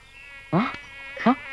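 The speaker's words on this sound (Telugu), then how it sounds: "ఈ దోమలు కూడా మన ప్రేమ చూసి భరించలేకపోతున్నాయి చూడు" Mosquitoes buzzing around a couple in a film love scene: two short, swelling buzzes half a second apart over a faint, steady high whine.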